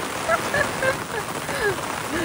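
Heavy rain drums on an umbrella at a rice field during a village walk, a steady dense hiss with a few faint bird calls threaded through.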